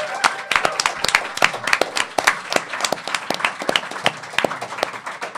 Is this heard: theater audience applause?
yes